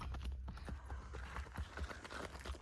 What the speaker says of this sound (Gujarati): પૃથ્વીરાજભાઈ જઈ રહ્યા છે જયરાજભાઈ ની સાથે ચક્કર મારવા ઘોડાની.